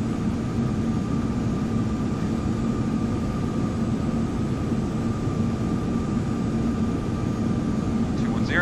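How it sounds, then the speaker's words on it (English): Inside the cockpit of a large airliner climbing after takeoff, a steady engine and airflow roar with a faint hum runs throughout at moderate level, with no break. "Alright, we're gonna pitch down to 10 degrees, let the airplane start to speed up."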